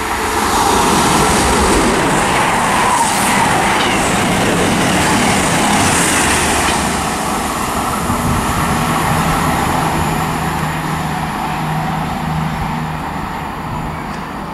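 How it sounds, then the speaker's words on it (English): CrossCountry passenger service on the East Coast Main Line at Prestonpans, running from Birmingham New Street to Edinburgh, passing with a loud, steady rumble and rush that stays strong throughout and slowly eases toward the end. "coming through now, got a cross-country service to Edinburgh"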